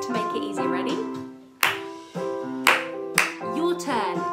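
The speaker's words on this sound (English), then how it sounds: "I'm gonna do a clap rhythm" A music teacher at a community primary school session claps out a short rhythm, a handful of sharp, close hand claps spaced unevenly over a few seconds with sustained background tones beneath.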